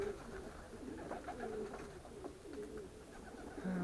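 Young racing pigeons cooing softly in low, rolling calls that repeat and overlap, fairly quiet and close, with no voices.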